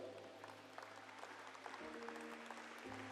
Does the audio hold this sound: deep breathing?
no